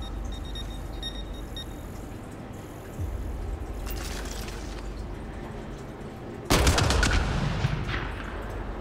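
Gunfire in Mass Effect Andromeda crackles in bursts over a steady low hum, with a short rattle midway and a louder, sustained volley near the end.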